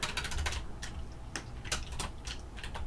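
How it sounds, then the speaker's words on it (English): Computer keyboard keys click in quick irregular bursts of taps, close and fairly quiet, during PC play of Sonic 3 & Knuckles. "I do apologize for the sound of my keyboard clicking."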